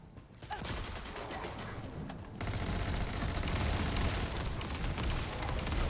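Dark Current trigger procs on critical hits in The First Descendant, a rapid stream of crackling gunfire with booming impacts, loud and sustained, swelling heavier partway through.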